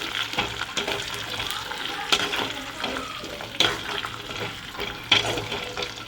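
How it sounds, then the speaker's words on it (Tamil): Garlic and whole small onions frying in oil in a pan for a spicy tamarind curry, a steady close sizzle with occasional sharper crackles and spoon stirring, no talk. "நல்லா பொரியட்டும், வெயிட் பண்ணலாம்."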